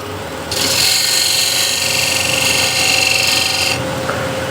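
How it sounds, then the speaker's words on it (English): A shear scraper cuts on a spinning wood lathe, a loud, steady hissing scrape that holds for about three seconds over the lathe's hum, then stops. "So I'll do that with the shear scraper."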